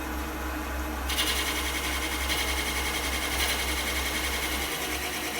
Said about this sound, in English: we're going to bring up the Forstner bit nice and gentle